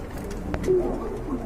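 A male running pigeon at a sale coos in a low, rolling murmur close up, with one sharp tap and steady background rustle from other birds.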